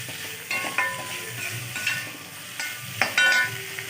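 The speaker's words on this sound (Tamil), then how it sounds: "இஞ்சி பூண்டு பேஸ்ட்டு, தக்காளி, உப்பு கொஞ்சம் எல்லாம் போட்டு வதக்கிக்கலாம்" Onion sautéing with ginger garlic paste, tomato and salt for kalaankuzhambu, a steady soft sizzle in the pan broken by scraping stirs, close and moderately quiet.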